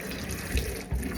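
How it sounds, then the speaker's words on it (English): Hot water runs from a kitchen tap into a sink for rinsing, a steady close rushing stream with two brief heavier surges as the flow hits something. "And then I rinse it with hot water"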